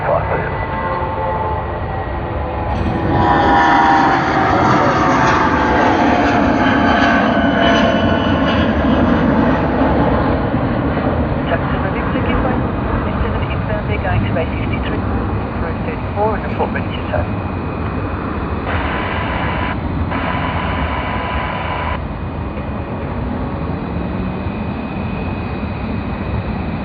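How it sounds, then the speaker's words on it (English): A United Boeing 787-9 Dreamliner airliner at Sydney Airport, its loud, steady jet roar swelling and holding for nearly half a minute, with people talking over the engine noise. "another United 787-9 Dreamliner"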